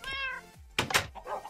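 A Minecraft cat gives a couple of short, close meows, one rising and one buzzier, with a soft knock-like thump between them.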